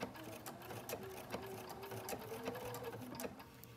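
A sewing machine stitches quilt pieces for a neutral-toned flower quilt, running steadily at close range with a continuous mechanical whir and rapid needle rhythm, with no talking over it.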